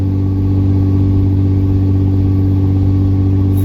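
A 5.9 Cummins diesel truck engine with 50hp injectors and an Edge CTS2 tune pulls a trailer up a grade, a loud, steady low drone held at constant revs the whole time.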